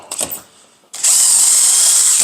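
A power drill bores a dowel hole in wood through a Dowelmax doweling jig, a sharp high-pitched whine starting abruptly after brief quiet handling noises and running loud for over a second.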